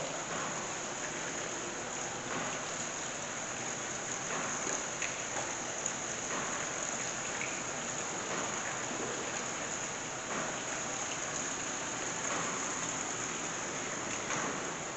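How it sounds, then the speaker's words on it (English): Indoor waterfall display in a dining area made to look like the outdoors, giving a steady, even rush of falling water that hisses on without pause, fairly quiet and unbroken by voices. "And here's the waterfall."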